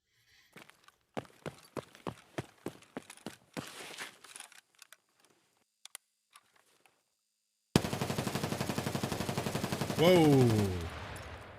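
Gun test-fired in Escape from Tarkov: a rapid burst of sharp shots, then a few scattered single shots, followed by a louder sustained automatic burst near the end, with a brief exclamation from a voice.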